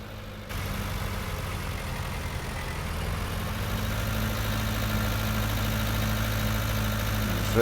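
Steady low, even drone of a well-used tractor engine idling in Farming Simulator 19, on an Irish farm, running close and continuous throughout with no talk.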